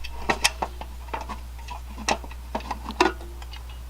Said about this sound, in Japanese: 飯盒を扱ってるんでカチャカチャうるさい動画になってます